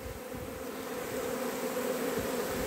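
Swarm of honeybees fanning their wings at a hive entrance's landing board, a steady dense buzzing drone held close and loud throughout, with no voices.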